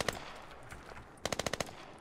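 M4 rifle fire in the video game Squad: one early shot, then a rapid automatic burst of about six sharp, loud reports in quick rhythm, close to the listener.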